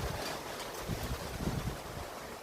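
Strong wind blows hard with rain during a sudden outdoor storm, a steady rushing roar with gusts buffeting the microphone, fairly faint overall.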